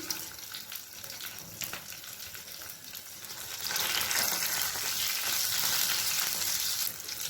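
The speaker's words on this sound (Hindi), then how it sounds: "हरी मिर्ची फ्राई होने लगी है" Green chilies sizzling in hot oil in a pan, a continuous crackling fry that swells louder partway through, close and steady with no voices.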